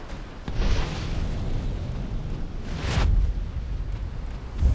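Missile impact explosion in Modern Warfare 2: a muffled, rumbling boom swelling over a steady wash of noise, with a second surge about two seconds later and a low thud at the end.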